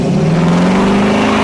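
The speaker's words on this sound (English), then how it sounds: "So let's go and do this thing a quick cold start on" A fuel-injected car engine with a newly fitted aftermarket exhaust turns over on a cold start, giving a steady, loud low idle rumble that fills the whole short stretch with no talking over it.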